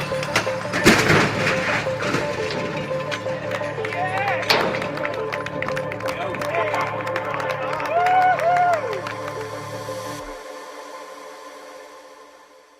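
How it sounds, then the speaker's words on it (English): An audience claps and cheers after a crash test, a broad wash of applause and excited shouts with a sharp bang early on, fading toward the end, with talk and a tonal hum running underneath. "you can see by the clapping and excitement at the end of that crash test there"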